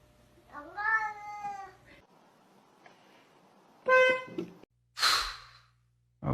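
A cat meows twice in loud, close, drawn-out calls with a pause between, followed by a sharp high-pitched squeak or squeal near the end during an interactive scavenger game for cats.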